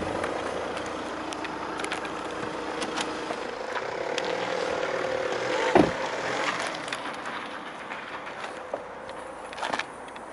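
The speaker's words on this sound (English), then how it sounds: "So if we pop the bonnet," A single sharp clunk from releasing the bonnet of a Volkswagen Passat 2.0 Alltrack TDI BlueMotion stands out midway over a quiet, steady background, with a fainter knock near the end.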